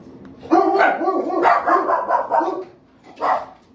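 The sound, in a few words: dog barking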